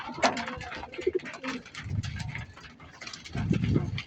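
Racing pigeons coo in a loft at feeding time, soft throaty rolling calls that overlap and swell, near and fairly loud, with a few other bird sounds mixed in.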